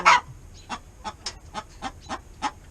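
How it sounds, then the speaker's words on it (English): Backyard hens make a series of short, evenly spaced clucks about every quarter second, close and moderately loud, opening with a sharper squawk. "This one started clucking at me."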